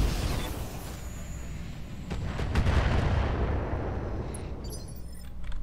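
Mortar fire in Roguetech, a BattleTech mod, comes as distant rumbling booms and a sustained low roar of impacts, swelling in the middle with sharp bursts and fading toward the end.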